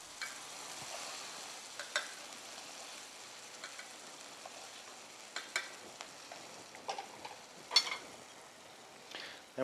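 Scallops browning in a pan in a restaurant kitchen: a faint, steady sizzle with scattered soft pops and ticks, no one talking.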